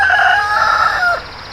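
A homestead rooster crows once, close and loud, a single drawn-out call lasting just over a second before trailing off.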